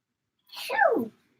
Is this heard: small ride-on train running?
no